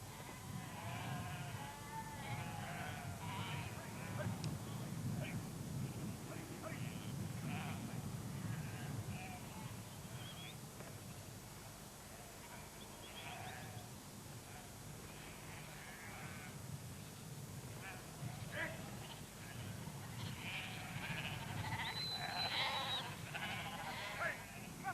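Sheep bleat repeatedly on a hill farm at Scarlaw, several animals calling at moderate distance over a soft outdoor background, with calls scattered irregularly throughout.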